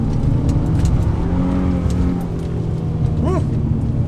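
A 2003 Infiniti G35 sedan with a five-speed automatic pulls hard in second gear on a winding mountain highway, its engine drone loud and steady from inside the cabin before easing slightly near the end.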